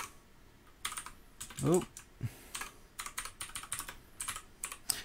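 Someone types on a computer keyboard while coding, with irregular clusters of close clicking keystrokes and a brief spoken exclamation partway through.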